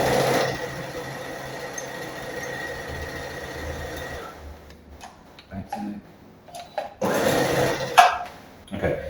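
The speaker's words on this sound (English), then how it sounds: "be careful when you're stitching over pins, because it will break the needle of the sewing machine." Sewing machine stitching a pleated skirt seam, with a steady fast mechanical whir for about four seconds, then stopping into quieter handling noises and short bursts.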